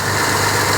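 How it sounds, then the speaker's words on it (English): A car engine with a knocking noise from the lower engine runs loud and steady, a continuous close rumble with no clear individual knocks standing out in this brief stretch. "And he's going to go ahead and rev it, and you can hear some knocking at the revving point."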